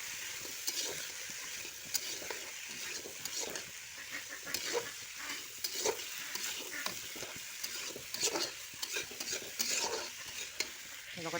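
Pointed gourd and potato pieces sizzle steadily in a hot pan, with repeated scraping and stirring strokes running through the whole stretch, close and moderately loud, no voices.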